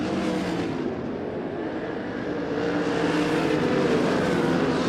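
Sprint cars racing on a dirt speedway at an ASCS desert sprint car main event in Arizona, a loud continuous roar of several engines running together, steady and dense throughout.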